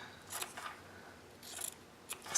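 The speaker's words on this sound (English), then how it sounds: "I take my big scissors," Big scissors snip through fabric seam allowance in a few close, crisp cuts, with brief pauses between clusters of blade strokes and no talk.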